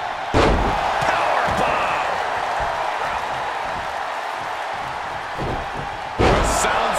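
Powerbomb slam in the WWE 2K22 wrestling video game during an Extreme Rules match, with a loud thudding impact near the start and another near the end over constant crowd noise and commentary.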